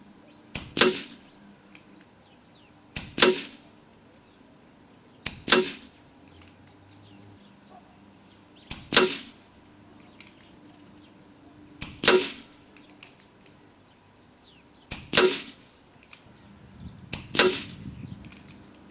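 An air rifle fires pellets with damaged skirts, seven sharp cracks spaced a few seconds apart, each with a quick metallic ring, close and loud against a quiet background.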